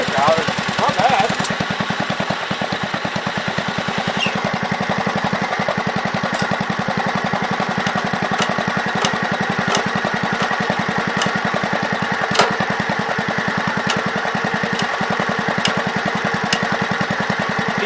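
A 526 tractor engine runs at a steady idle, its rapid, even knocking pulse loud and close throughout, with a person speaking briefly over it.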